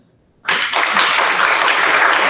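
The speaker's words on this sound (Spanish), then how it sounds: "yo quiero darle un fuerte aplauso a Radio Caracas Radio" An audience at a property and citizenship forum bursts into loud applause for Radio Caracas Radio, starting abruptly after a brief silence and building into sustained, dense clapping that fills the rest of the moment.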